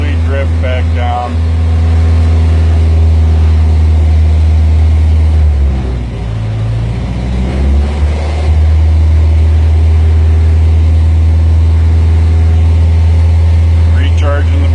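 A revved engine runs at a high, steady hum while recharging the battery, a loud continuous drone that dips briefly in the middle before settling back to an even idle.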